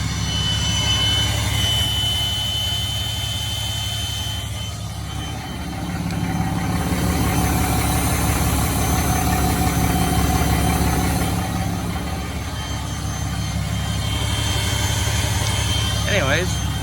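A diesel truck idles at cold startup with its exhaust brake engaged, a steady loud drone whose tone shifts partway through, heard close up.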